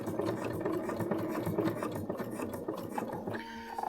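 Sewing machine stitching an X pattern across strapping webbing, a fast rhythmic raspy chatter of the needle with repeated pulses, close and fairly quiet, stopping into a brief lighter mechanical whir at the end.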